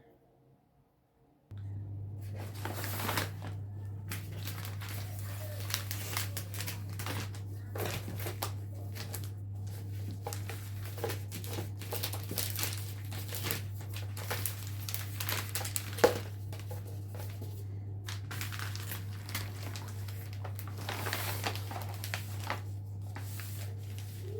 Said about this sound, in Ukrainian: Далі мені потрібна просто флористична плівка прозора, щоб його запакувати.